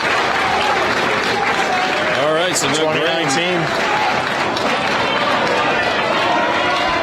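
A crowd at a cornhole world championship cheers and applauds in a constant roar under a commentator's talk, with a brief rise of voices in the middle.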